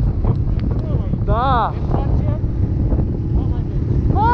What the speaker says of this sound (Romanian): Mamă, e vânt rău aici